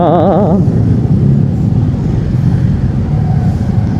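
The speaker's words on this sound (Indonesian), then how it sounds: "Wah macet lagi, udah macet ternyata." Congested road traffic jam of cars and trucks, a steady low engine rumble and hum close by, with a brief warbling horn-like tone at the start and no talking.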